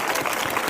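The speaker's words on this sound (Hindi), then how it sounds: "आपकी तालियों की गड़गड़ाहट" Brief burst of dense clapping from a church congregation, a crowd applauding together at steady moderate loudness.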